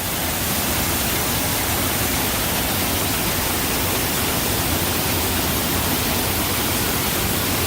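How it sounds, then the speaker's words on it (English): The waterfall at the Mystery Theater in Knott's Berry Farm roars as a dense, steady rush of falling water, loud and unbroken from start to end, with no voices. "This is the Knott's Berry waterfall over at the Mystery Theater. It is a bit noisy,"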